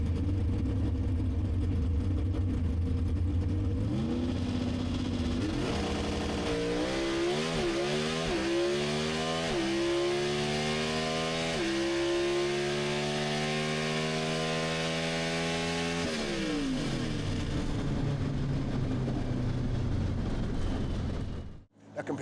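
A 1967 Chevrolet Nova Super Stock drag car with a 320-cubic-inch engine and five-speed gearbox revs hard, its pitch climbing through a series of sharp rises and drops as gears bang in, loud and close, then falls back to idle.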